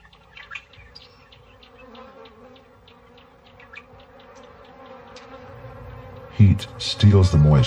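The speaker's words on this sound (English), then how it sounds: "African bees, like everything else, are desperate for sustenance." African bees buzzing in hot, dry lion territory, a steady insect drone running beneath narration before louder, closer buzzing and rustling rise near the end.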